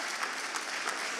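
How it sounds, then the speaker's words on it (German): Dense, steady applause from a large audience at an awards show, loud and even throughout with no voices over it. "der Applaus ist für Ralf."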